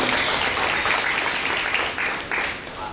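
Congregation at a church service applauding together, a dense, continuous wash of clapping that stays loud and close throughout before tapering slightly near the end.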